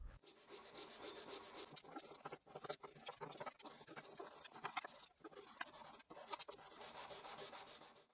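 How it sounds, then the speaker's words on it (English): Wood being hand sanded along its sides with 220 grit sandpaper, a steady rasping rub in continuous back-and-forth strokes with brief pauses, close and fairly loud, no voices. "using 220 grit sandpaper, I'll manually sand the sides."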